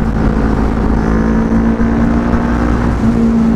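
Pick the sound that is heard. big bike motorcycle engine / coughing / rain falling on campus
big bike motorcycle engine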